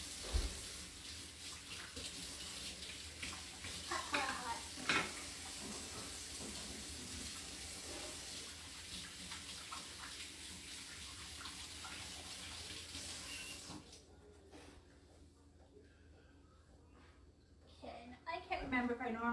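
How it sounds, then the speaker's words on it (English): Tap water runs steadily into a kitchen sink for a hand wash for about thirteen seconds, then stops, leaving quieter handling noises; a voice talks now and then. "I'm going to wash my hands."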